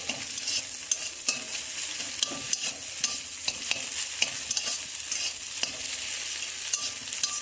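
An egg fries in a pan with a steady, fairly faint sizzle, broken by light scraping and stirring clicks from a utensil at close range, with no voices.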